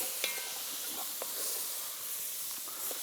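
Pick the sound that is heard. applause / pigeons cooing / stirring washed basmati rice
stirring washed basmati rice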